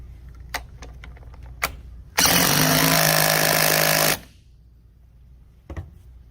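An impact wrench drives a nut onto a mobility scooter transaxle in one loud, rattling two-second burst, with a few sharp clicks of handling before and after.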